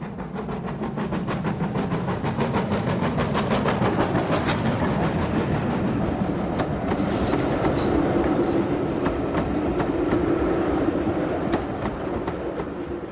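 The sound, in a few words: steam locomotive hauling a train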